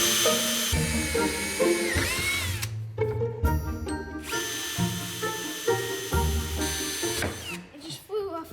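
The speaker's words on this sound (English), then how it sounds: "2-inch pipe that I'm going to drill a whole bunch of holes in and just screw it in" A power drill whirs in bursts while drilling holes into a 2-inch pipe for a DIY pond filter, the motor pitch rising and dropping between stops, close and loud, with a person talking at times.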